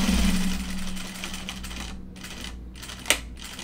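A sewing machine runs close up, stitching the seam allowance on bib pants with a steady motor hum and rapid needle patter, then slows with a few pauses and a sharp click near the end.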